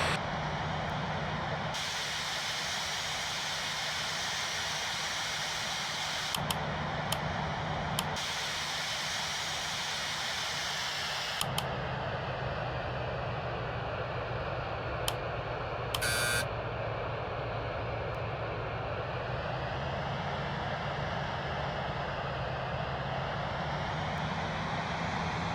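Boeing 737-800 engines spool up for takeoff in the RFS flight simulator game, a steady droning whine and hiss that holds throughout with a few brief beeps, no talking.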